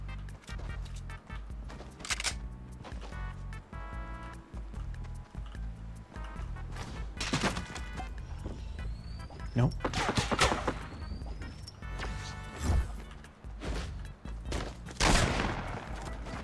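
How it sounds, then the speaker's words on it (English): Gunfire in the battle royale video game Fortnite, bursts of rapid shots and single loud cracks scattered across the stretch, mixed with game effects while a player talks excitedly over it. "Don't shoot at me."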